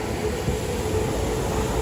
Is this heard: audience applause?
no